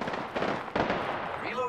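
Bursts of gunfire from the battle royale video game Apex Legends, a few sharp shots cracking over a busy game mix with voices in the background.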